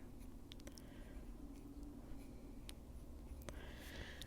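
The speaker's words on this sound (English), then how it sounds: "This pencil will go over some of those black lines" Colored pencil strokes scratch and rasp across paper in short irregular bursts, close up and fairly quiet, with a low steady hum underneath.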